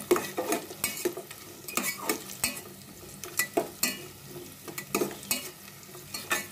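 Nuts and raisins frying in a pan for jorda vermicelli, with a quick, regular series of spoon scrapes and stirring clinks over a soft sizzle, close by.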